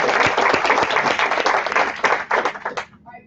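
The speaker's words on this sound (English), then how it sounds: "Another round of applause." An audience at a coworking-space presentation event gives a round of applause. Loud, dense clapping goes on for about three seconds before thinning out, and a voice starts speaking at the end.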